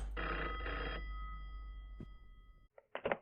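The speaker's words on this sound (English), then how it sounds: "We answer the phone." A telephone rings loudly in a horror video game with a steady bell-like ring that breaks off and fades. Faint, brief game sounds follow.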